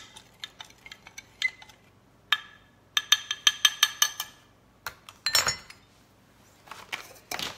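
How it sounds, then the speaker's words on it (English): A utensil stirs a corn flour mixture in a jug, giving a close series of sharp clinks and taps against the sides, some quick rhythmic runs, a scraping swish, and pauses between. "I'm actually just going to stir this slightly."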